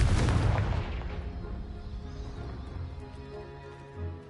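A Confringo blasting spell detonates in the Hogwarts Legacy video game, a loud booming explosion that hits at once and then decays into a long rumbling tail with faint settling debris.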